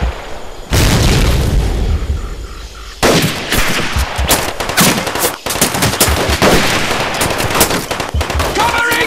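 Gunfire in Medal of Honor: Pacific Assault's Henderson Field battle, with loud, close machine-gun bursts and booming shots in rapid succession, dense and overlapping, as shouted voices cut through the combat.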